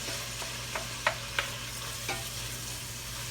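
Ground beef, an 80-20 blend, sizzles steadily as it browns in a pot, with a few sharp scrapes and clacks of stirring over the continuous frying hiss.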